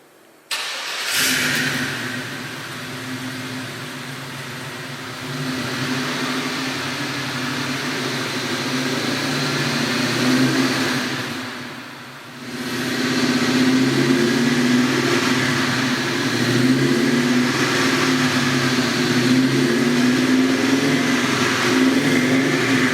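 A 1965 Chevrolet Chevelle Malibu V8 with ceramic-coated Hooker Super Competition headers, true dual exhaust with H-pipe and Flowmaster 50 series mufflers starts up and idles with a deep, loud burble, then revs up, dips briefly and settles into a steady throaty rumble.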